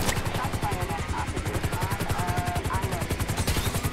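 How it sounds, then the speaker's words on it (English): Helicopter in the video game GTA 5, a steady fast rotor chop thudding loudly throughout with a mechanical whine above it, a voice briefly speaking under the noise. "Officers, I need your helicopter."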